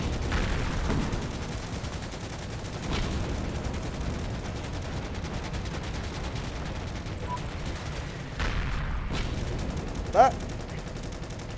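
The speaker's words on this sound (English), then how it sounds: "Shots." Gunfire in the World War II shooter Heroes and Generals, a steady rattle of distant shots and machine-gun bursts with one sharper, louder shot near the end, while a voice briefly speaks.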